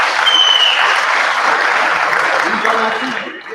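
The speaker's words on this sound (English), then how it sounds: "Let's just give him a clap for all of us" Audience at an education and careers fair gives a sustained round of applause, a dense wash of clapping from many hands that fades near the end as a voice returns.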